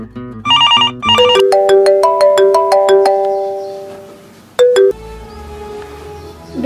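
A loud electronic phone ringtone plays a bright, bell-like melody, pauses, then sounds one more short chime.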